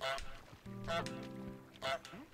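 Cartoonish goose honks from Untitled Goose Game, several loud nasal calls in quick succession, with two players talking and laughing over the honking.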